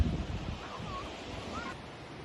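Sea waves wash onto a white sand beach with wind buffeting the microphone, a steady soft surf roar at moderate distance with faint bird calls.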